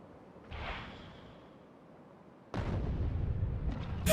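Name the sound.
nuclear bomb explosions in the video game Factorio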